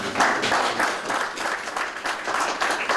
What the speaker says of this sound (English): the quiet applause from deep within the heavily guarded green zone